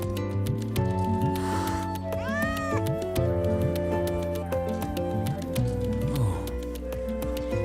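A frightened cat in Wuthering Waves meows repeatedly over busy game music and effects, its cries rising and falling in pitch, loud and close.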